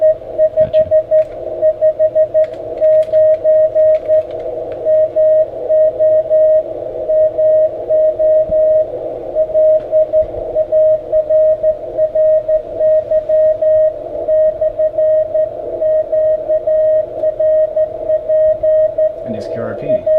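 A low-power QRP amateur radio signal comes through a receiver in a ham shack as a steady tone keyed in rapid on-off bursts throughout, loud and close, with occasional brief clicks.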